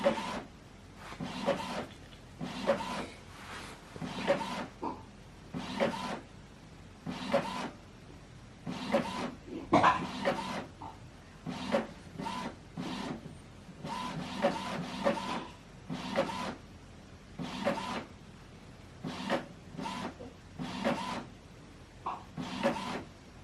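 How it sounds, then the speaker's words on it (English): An Epson WF2930 printer runs off a scanned document, giving repeated bursts of mechanical whirring and rasping feed strokes in a steady stop-start rhythm, close and moderately loud with no talk. "So what it's doing now is printing out the document we scan."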